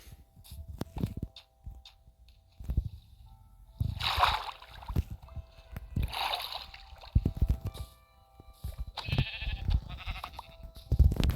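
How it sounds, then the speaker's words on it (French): Sheep in a video game bleat several times, in separate wavering calls amid scattered game thumps and clicks, fairly close and moderately loud. "Un autre mouton, ça peut pas faire de mal"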